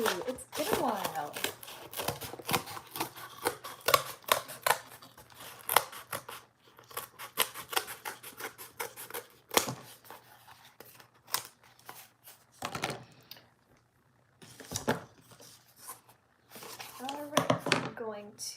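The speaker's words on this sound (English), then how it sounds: "make it a little bit easier to cut through with the scissors" Scissors snip repeatedly through material for an art sculpture, with quick clustered cuts close by and brief pauses between runs, while a person talks intermittently.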